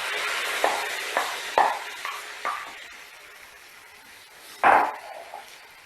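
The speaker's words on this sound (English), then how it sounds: "Now we will add our tomato puree" Tomato puree goes into a pan on a medium gas flame, a few soft scraping stirs and clinks of a spoon against the pan, then a brief louder splat, over a quiet background sizzle.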